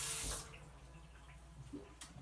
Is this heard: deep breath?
no